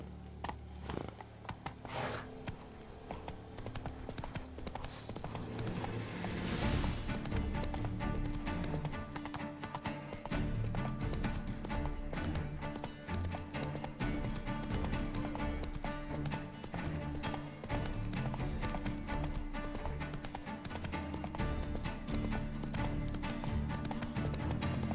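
Roach, a horse in the video game The Witcher 3, gallops with a steady, continuous clip-clop of hooves throughout, a brief neigh early on, and game ambience underneath.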